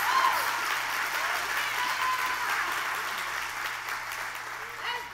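A church congregation applauds steadily for several seconds during a sermon, a dense, sustained wash of clapping that fills the room with no pause.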